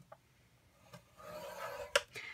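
A sheet of paper, turned to its 8.5 inch side, is scored for a pizza-style treat box, giving a few short, close rasping and scratching strokes with quiet pauses between them.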